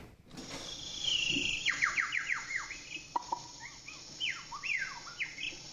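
A man imitates high, whistled bird song with his voice, aiming at a flame: a rapid run of chirps and trills that sweep downward, then further scattered calls, loud and close with no speech.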